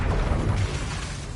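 A Bombarda blast spell goes off in Hogwarts Legacy, a short, dense, low rumbling burst that stays loud for about half a second and then thins into a fading rush of noise.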